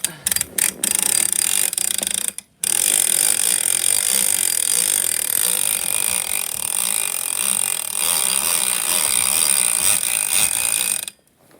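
A 2016 Ice Castle fish house being cranked up, a steady close mechanical ratcheting and gear grinding that runs almost without pause after a couple of brief clicks and a short gap, with no talking.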